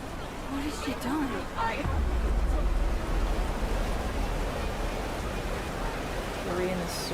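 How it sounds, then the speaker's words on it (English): Steady, dense video game rain effect hiss fills the scene in Life Is Strange: Double Exposure, loud and close, with a low rumble beneath and brief bits of talk or babble near the start. "why is the rain effect so loud?"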